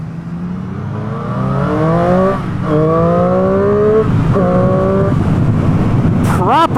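A giveaway motorcycle, still without an aftermarket exhaust, revs and pulls through the gears while being ridden, its engine note climbing in repeated sweeps close to the mic, with a voice talking over it.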